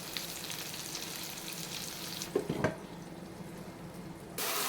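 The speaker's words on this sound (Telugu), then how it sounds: "ఇప్పుడు సగ భాగం మగ్గాయి, ఇంకా కొంచెం సేపు మగ్గనిద్దాం" Eggplant curry cooking in a pan, a steady low sizzle and bubbling throughout with a brief stirring clatter midway, no voices.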